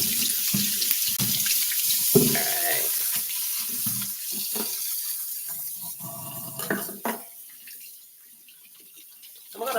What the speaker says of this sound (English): So we have here our Granny Smith apples. I'm going to get those washed.